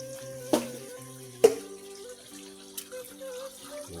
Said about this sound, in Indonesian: Tuh kawan ini airnya nih. Langsung dari mata air.